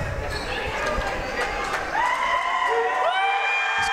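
Loud crowd noise fills a small gymnasium during a college basketball game, with cheering and whoops over a continuous roar and commentary voices talking throughout.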